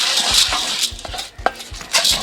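A popcorn popper holding oil and corn kernels is being started and stirred, giving repeated rhythmic scraping and clattering strokes over a faint background sizzle, close and fairly loud, with no talking.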